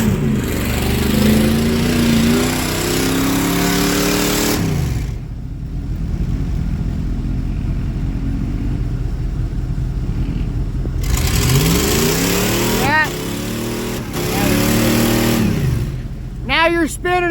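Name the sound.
mud truck engine revving with tire spinning on its rim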